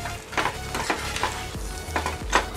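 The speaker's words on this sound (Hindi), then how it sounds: "मिक्स कर लेंगे इसे एक बार" Shredded chicken and tomato sauce are stirred in a pan, with a spoon scraping through the mixture in about half a dozen short, evenly spaced strokes over a low, steady background.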